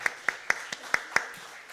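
A church congregation at a Sunday worship service claps in a steady rhythm, about six distinct, fairly faint hand claps evenly spaced, sounding somewhat distant.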